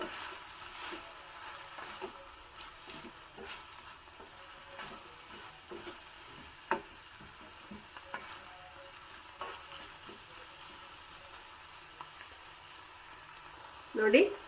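Tomato and onion fry in a pan for a brinjal dish: a faint, low sizzle with scattered scraping and tapping of a spoon stirring.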